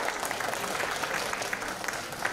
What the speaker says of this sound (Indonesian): boleh tepuk tangan untuk Ibu Mira